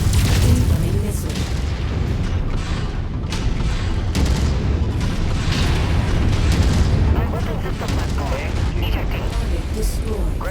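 A giant combat mech blows apart during a MechWarrior 5 battle, a loud sustained rumble of blasts and gunfire under game radio voices.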